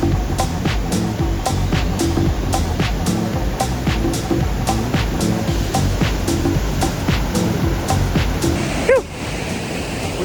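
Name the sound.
rushing river under a footbridge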